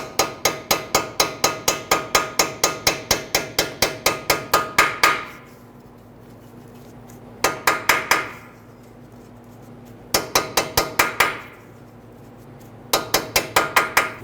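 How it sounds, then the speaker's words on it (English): A hammer tapping a front lower control arm suspension bolt on a Nissan Quest with the nut fitted, heard as loud, rapid metallic strikes in four quick runs with brief pauses between. "You can gently tap the other side of the bolt."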